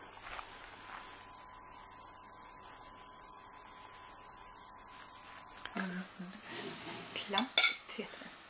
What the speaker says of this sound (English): Oh, listen to all the crickets.